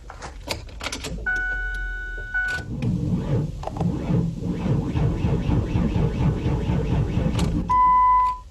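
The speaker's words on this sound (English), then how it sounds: "As you could hear, it won't start, so I'm going to show you how to safely and properly jump a car." A 1995 Ford Windstar with a seven-year-old dead battery fails to start: keys jingle, then a steady cranking drone from the engine runs for several seconds, ending in a brief electronic chime, recorded close inside the van.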